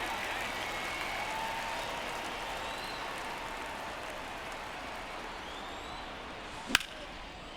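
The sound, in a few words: crowd reacting in a baseball video game, MLB The Show 24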